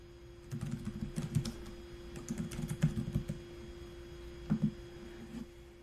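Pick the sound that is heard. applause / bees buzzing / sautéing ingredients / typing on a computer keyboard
typing on a computer keyboard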